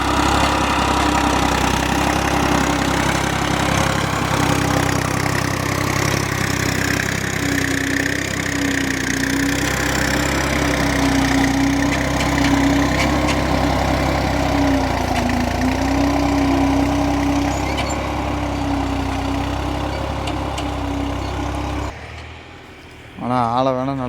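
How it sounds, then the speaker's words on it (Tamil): A tractor engine labours at full depth while pulling a five-tine plough through a village farm field, a steady, loud throbbing drone that continues without a break before cutting off near the end. "5 கலப்பைக்கு பாருங்கள், டெத்து ஃபுல்லாக கொடுத்து ஓட்டுறதுக்கு குப்பு குப்பு குப்பு குப்புன்னு போக தள்ளுறான்."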